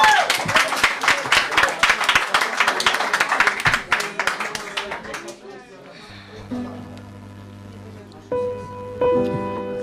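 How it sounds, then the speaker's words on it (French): An audience claps for a singer at a live show, with steady, dense applause for about five seconds that thins out as a voice and instrument tones come in. "on peut l'applaudir"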